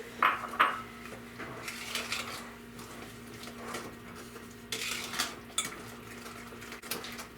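A spoon clanks and scrapes around a bowl while sucanat brown sugar is mixed into date pudding batter, a few sharp knocks at the start, then softer intermittent stirring strokes and another burst of clatter near the end.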